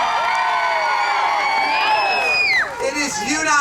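A crowd at a mock trial at the Pennsylvania Renaissance Faire cheers and whoops in a loud burst of overlapping voices, shrill shouts rising and falling over a few seconds.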